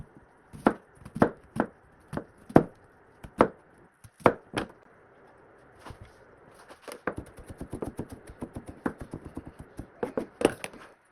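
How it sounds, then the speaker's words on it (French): Garden vegetables being chopped on a board, a knife striking in irregular sharp knocks at first, then a quicker run of rapid close chops, clear and alone with no talk. "on va commencer à éplucher et à couper les légumes"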